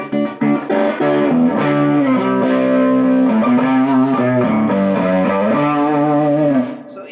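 Sustained electric guitar chords and single notes played through a modified Boss DS-1 distortion pedal set toward a milder overdrive tone, loud and saturated, ringing alone without talk.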